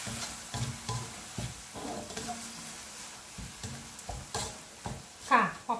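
Minced pork stir-fried in a pan with a splash of water for Thai basil pork, giving repeated scraping stirs and a soft sizzle in uneven bursts, close by and moderately loud.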